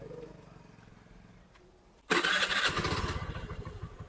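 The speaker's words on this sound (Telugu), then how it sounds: "స్కూటీ ఎక్కు కోకో, ఎక్కు ఎక్కు." A scooter engine idles softly, then suddenly revs up loudly and keeps running with a rough, throbbing motor sound close by.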